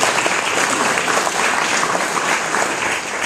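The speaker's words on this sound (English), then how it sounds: "Cliff Hapgood deserves a round of applause" Audience at a Franklin County Democrats picnic applauds for Cliff Hapgood, a steady, dense wash of clapping that holds at full strength throughout without pause.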